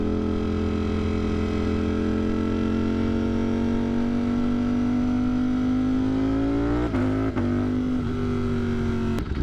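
A 200+ horsepower motorcycle with an aftermarket exhaust holds a loud, steady engine drone that climbs slowly in pitch, then breaks into sharp shift cuts and brief crackling pops near the end.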